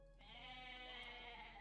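Goats bleat in the video game Age of Mythology, one drawn-out, quavering bleat that starts almost at once and holds to the end, quiet and alone with no talk over it.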